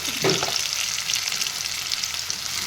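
Split green chillies, turmeric and salt stirred in hot oil for a carrot fish curry give a dense, steady sizzling hiss, with a brief scrape of the spoon near the start.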